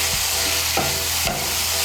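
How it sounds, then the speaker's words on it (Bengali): Spiced masala sizzling in a pan as pre-fried potatoes are stirred through it, with a few distinct spoon scrapes over a steady frying hiss, close and fairly loud, no speech. "আলুগুলোকে মশলার সঙ্গে ভালো করে মিশিয়ে নেব"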